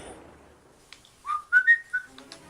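A person whistles into a microphone, a short rising and falling melodic run of four or five loud, close notes after a moment of quiet background noise.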